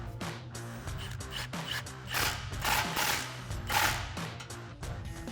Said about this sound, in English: we'll snug up that clamp again with our 15mm socket